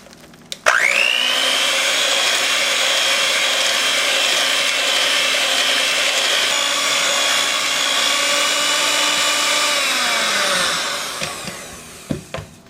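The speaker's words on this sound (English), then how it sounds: "we're going to beat the yolk with the sugar until it gets yellow and pale" An electric mixer whirs steadily for about ten seconds as it beats egg yolks with granulated sugar for a Torta Caprese. It starts abruptly, holds a loud, even motor whine, then winds down with a few clanks at the end.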